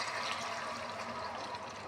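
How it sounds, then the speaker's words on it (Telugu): Water is poured into a cooking pot while a spicy mango dish is being made: a close, steady splashing pour that runs for about two seconds without any talk. "వాటర్ వేస్తున్నాను"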